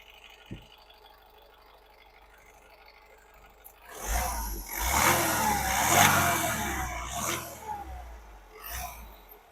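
A 2017 Honda WR-V VX diesel engine idles quietly, then revs up hard, its rumbling roar rising and falling through several throttle blips before easing back.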